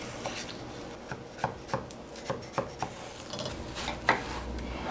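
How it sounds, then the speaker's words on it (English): A paring knife slices through watermelon and cuts away the rind, making a series of crisp, close knife taps on a cutting board at an uneven pace, with no talk. "use my paring knife to cut the rind away"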